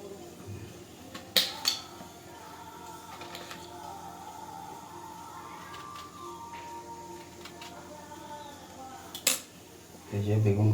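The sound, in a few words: cutting eggplant (brinjal) with a knife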